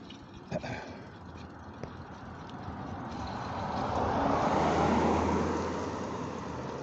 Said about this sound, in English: There's a car, of course.